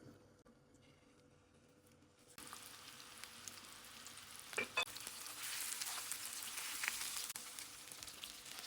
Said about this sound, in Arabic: بعد ما قلينا اللحمة وتغير لونها